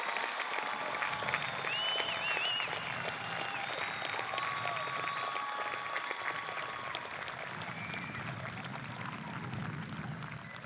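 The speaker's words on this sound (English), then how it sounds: "one more round of applause for all of our graduates, please" Steady applause from a commencement audience honoring graduates of a 2021 business administration class, a dense, even patter sustained throughout, with faint tonal sounds drifting above it.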